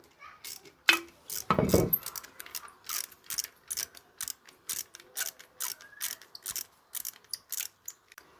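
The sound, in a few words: ratchet wrench removing bolts on Kawasaki ZR-750 Zephyr motorcycle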